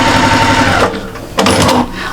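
Sewing machine stitching quilt squares together, a steady fast mechanical whirr running for most of the moment, pausing briefly, then a short second burst of stitching close by.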